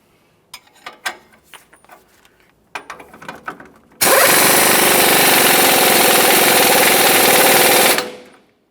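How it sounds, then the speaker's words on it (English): An air impact gun drives in the lower shock mounting bolt on a 2004-2008 Ford F-150 front suspension, a few light clicks and taps leading into one loud sustained burst of about four seconds that cuts off sharply. "I'm going to use an air gun and drive it in"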